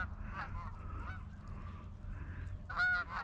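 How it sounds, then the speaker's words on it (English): Geese honking in a loose chorus during a duck and goose hunt, a few distant calls through the middle and a louder, closer burst of honks near the end. "I'm thinking we're gonna have to take these geese, John"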